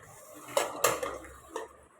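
Plates and dishes clink at a lunch table set for a light fish curry, with three distinct close knocks of crockery and faint cutlery rattle in a quiet room.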